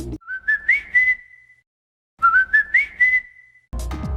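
Whistled McDonald's logo jingle, a short rising-and-falling melodic phrase played twice with a pause between, clear and close, with no talking.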